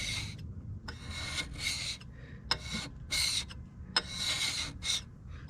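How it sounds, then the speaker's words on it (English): Rust being scrubbed off a Morris Mor-Speed radial drill with acetone and automatic transmission fluid, a series of long, quiet rasping strokes in an uneven rhythm, close up with no talk. "I'm just kind of doing long strokes, not really digging into that surface, but it's skimming that rust"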